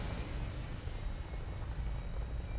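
A Fallout 4 aircraft takes off with a steady, close engine and rotor roar that holds loud and unbroken throughout.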